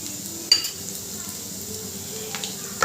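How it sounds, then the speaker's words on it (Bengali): Garlic frying in hot oil in a home kitchen before drumstick leaf greens go in, giving a steady soft sizzle with a few sharp clinks of a spoon against the pan. "রসুনটা দেখুন এবার ভাজা ভাজা হয়ে গেছে"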